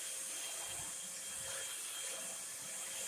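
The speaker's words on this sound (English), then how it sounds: "That's a pretty slick little vacuum." A Eureka 3 in 1 swivel lightweight stick vacuum runs on carpet, a constant high-pitched motor whine and airy hiss that stays steady throughout, close and alone.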